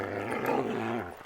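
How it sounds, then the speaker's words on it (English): Several dogs growl and snarl in a low, rough rumble close by, rising slightly in the middle and fading at the end. "Jeez, what miserable dogs."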